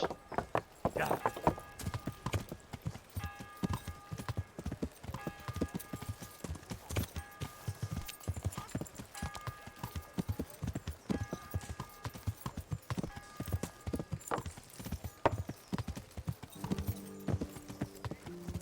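Horse hooves clip-clop steadily through the medieval video game Kingdom Come: Deliverance, a rhythmic stream of close hoofbeats over game music with a brief whinny, running throughout.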